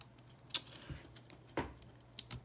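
A mechanical keyboard with Cherry MX White switches being worked on: a few sharp plastic clicks and snaps, like a keycap pressed back onto its switch, close and fairly quiet, with no talking.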